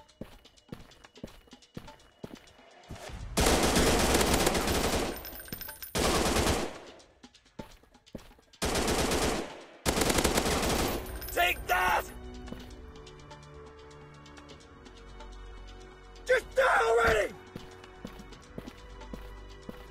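Machine gun fire in an FPS shooting video game, several loud, sustained bursts of rapid shots separated by short pauses, with quieter game sounds and a later brief burst of activity between them.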